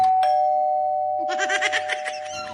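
A doorbell rings with a clear two-tone ding-dong, followed by brief chiming and rustling, heard close with no talking.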